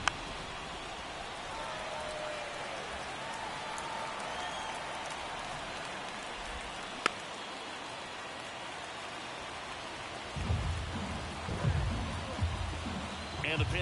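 Steady hiss of heavy rain falling on a baseball field in the MLB The Show video game, continuous and broadband, with a louder crowd-like swell near the end.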